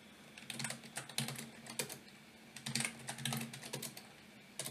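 Quiet, close typing on a computer keyboard enters a password, with irregular bursts of key clicks and brief pauses between them.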